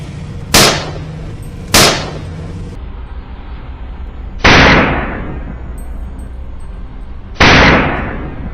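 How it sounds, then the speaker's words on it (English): Gunshots fired at wild boar during a hunt on open grassland: four sharp, loud cracks, two close together and then two more spaced apart, each followed by a short fading echo over faint background noise. "A decisive gunshot rings out the moment the wild boar emerges."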